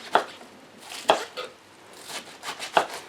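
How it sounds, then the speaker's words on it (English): A knife slicing food into shreds on a cutting board for a Doritos pasta salad, sharp close thuds in an uneven rhythm with lighter taps between, loud and alone. "Just gonna make slices out of this, kind of shreds"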